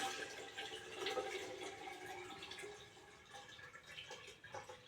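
Water pours into a cooking pot in a village kitchen, a soft, continuous splashing and trickling that stays fairly quiet and close for several seconds, with small uneven surges.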